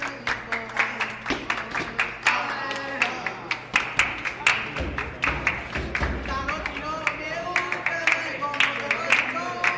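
Rhythmic hand clapping runs through an international rap track, repeated sharp claps on the beat over bass and music, with vocal delivery underneath throughout.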